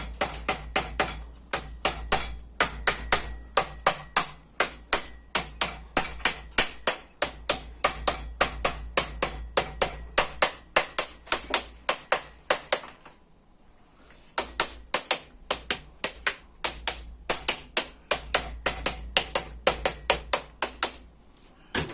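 Sharp metallic taps from a hammer while installing a crankshaft in a 420A Eclipse engine, in a steady, rapid rhythm, close and crisp, with a brief pause partway through before the tapping resumes.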